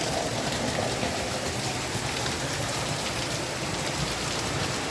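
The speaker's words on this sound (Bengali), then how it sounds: "দেখেছো কী অবস্থা গ্রাম বাংলার বৃষ্টি" Heavy rain pours steadily on a village in rural Bengal, a dense, constant hiss with no breaks and no voices.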